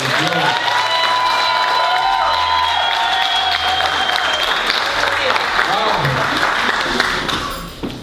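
An audience at a fundraising gala applauds steadily and loudly for several seconds, with scattered cheers and voices mixed into the clapping.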